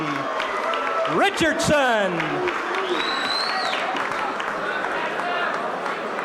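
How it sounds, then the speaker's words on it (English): A boxing crowd applauds and cheers as heavyweight Fast Eddie Richardson is introduced, a broad arena roar with clapping under an announcer's voice and a few shouts rising above it. "How about a round of applause for Fast Eddie Richardson?"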